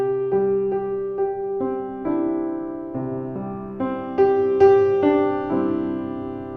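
Blüthner 1895 grand piano notes ring out in a slow, sustained phrase, rich and resonant with a touch of room ambience, no voices present, recorded with sphere and mid microphones.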